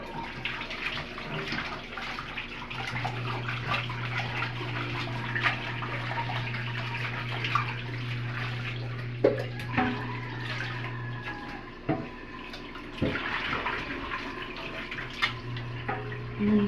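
Steady running tap water, washing pig intestines to make dinuguan, flows continuously throughout with small clinks and splashes, fairly close, with no talking.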